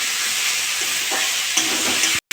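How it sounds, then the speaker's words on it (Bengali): Chopped banana flower fried with garlic paste in a pan, stirred with a steady broadband sizzle and a few soft scraping stirs, ending with a brief cut to silence. "নাড়াচাড়া করে ভেজে নিয়েছি"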